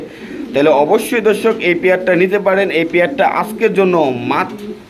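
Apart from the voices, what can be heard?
Lahori pigeons cooing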